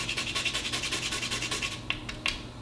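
Fresh whole nutmeg scraped across a grater, a steady rhythmic rasping of quick back-and-forth strokes, close and soft, ending with a couple of light taps.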